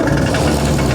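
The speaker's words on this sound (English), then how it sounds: "she is running, and it shakes. It's definitely a rattly 2-stroke" A 40HP two-stroke outboard motor runs close by, giving a continuous rough, rattling drone.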